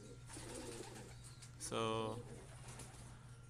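A pigeon coos once near the middle, a short, throaty warble close by, with a voice speaking before it and a low steady hum underneath.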